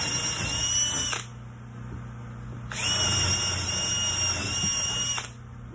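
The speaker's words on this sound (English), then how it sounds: "you want to drill a hole through it" A power drill whines steadily at high pitch while drilling a hole through wood for a small kids' rocking chair, runs for about a second, stops, then spins up again for a longer stretch before cutting off.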